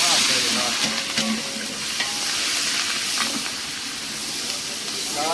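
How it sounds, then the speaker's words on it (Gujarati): Dal tempering in hot oil at an outdoor farm cookout, a loud continuous sizzle and hiss with steamy crackle and occasional stirring scrapes, close up, no talking. "દાળનો વઘાર લાગી ગયો"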